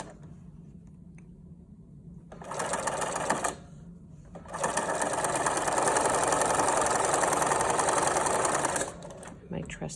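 An old Bernina sewing machine stitches a fabric mask, a loud mechanical whirring hum that runs in a short burst, pauses, then continues steadily for several seconds before stopping, with speech faintly underneath.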